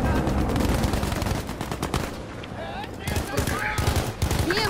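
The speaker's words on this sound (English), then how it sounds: "We're being shot from behind." Rapid gunfire crackles in the Battlefield V video game, dense bursts of automatic shots close and loud, with a brief lull midway before more shooting resumes.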